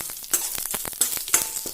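Dried red chillies frying in a hot steel pan, giving light, crackly sizzling with quick pops and small scraping stirs, close and fairly quiet.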